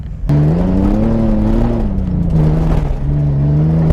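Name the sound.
car accelerating to jump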